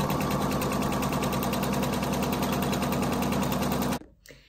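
A sewing machine runs fast and loud along folded fabric straps, a close, steady, rapidly pulsing hum lasting about four seconds before cutting off sharply.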